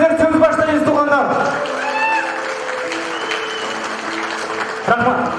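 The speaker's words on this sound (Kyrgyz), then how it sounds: "кол чаап бериңиздер" A wedding crowd in a restaurant claps for the bride's mother, a moderately loud patter of hands that mixes with an announcer's voice and background music.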